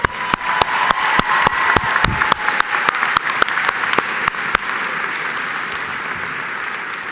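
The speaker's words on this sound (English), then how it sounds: "Another round of applause." A crowd at a graduation celebration applauds warmly, with sharp individual claps standing out at first before the clapping settles into a steady wash.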